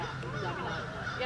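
Birds at a wildlife park give a few quiet goose-like honks, close but soft, with faint murmuring in the background.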